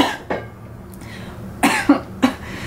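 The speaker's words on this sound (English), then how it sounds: "I don't know why I keep coughing." Several short, dry coughs from a woman at close range during a makeup talk, one early and then a quick cluster of three near the end, separated by quiet pauses.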